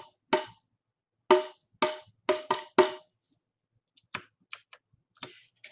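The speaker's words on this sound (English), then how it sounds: "clap and say the pattern while I play it on my tambourine" A tambourine plays a syncopated rhythm pattern of several sharp jingling strikes close up, followed by a few fainter, lighter taps and jingles.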